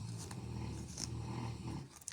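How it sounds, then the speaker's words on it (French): A dog snores in a low, rough, rhythmic rumble nearby, fairly quiet, with a couple of brief rustling sounds and no talk. "Je sais pas pourquoi il ronfle comme ça,"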